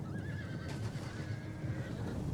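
Avar horse archers in a Total War battle, horses neighing with a clear high whinny over a dense rumble of hooves and battle noise, fairly quiet and continuous.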